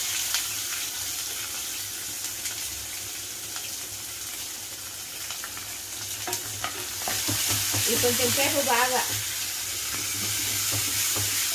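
Thinly sliced onions sizzle steadily in hot oil in a pan for a tomato dish, a continuous hiss that grows denser midway with stirring scrapes, while a voice speaks briefly over it.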